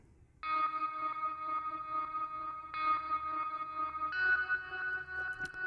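A lead synth paired with piano: sustained, slightly effected tonal chords entering after a brief quiet start, holding steady with two changes, played alone at moderate level.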